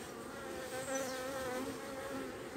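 Honey bees buzz at an open beehive during a hive inspection, a steady close-up drone of many insects with slight shifts in pitch as individual bees fly past.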